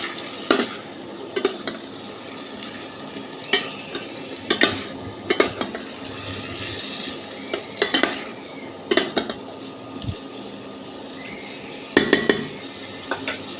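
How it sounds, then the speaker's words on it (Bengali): Ginger garlic paste is stirred and fried in a pot for chicken curry, a low sizzle broken by repeated loud scrapes and clanks of a metal spoon against the pot. "আর এই যে আদা রসুন পেস্ট করেছিলাম সেটাও দিয়ে দিলাম। খুব ভালো করে কষিয়ে নেব।"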